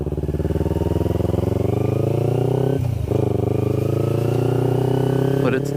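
A newly bought motorcycle's engine runs loud and close with a steady harmonic drone as the throttle is twisted, dipping briefly in the middle before climbing back. No talking.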